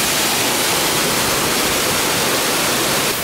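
Cascade Falls in British Columbia, a waterfall roaring as a dense, steady wash of broadband noise, loud and close with no breaks or voices.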